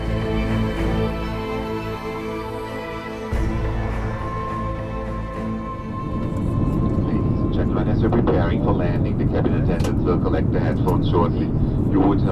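A passenger airplane lands at Kutaisi, Georgia, on a late July evening. A loud steady engine drone with tonal whine fills the cabin and then gives way to a rougher, broader roar of reverse thrust and rolling on the runway.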